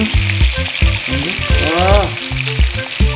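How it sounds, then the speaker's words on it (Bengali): Katla fish, a fresh freshwater carp, frying in hot oil, with a steady close sizzle and crackle that swells and dips as the pieces are turned, continuous throughout with no talking. "দেখো আমরা ভাজছি, দিদি ভাই ভাজছে, দেখে নাও।"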